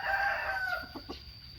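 A Thai fighting rooster clucks and crows briefly while being fed, a drawn-out call followed by a couple of short clucks, fairly close and without speech.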